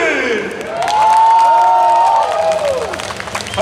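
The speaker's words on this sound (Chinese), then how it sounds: "掌声送上" A studio audience at a live arm-wrestling show applauds and cheers, with a dense wash of clapping, whoops and shouted voices. It swells to a loud peak midway and then eases slightly.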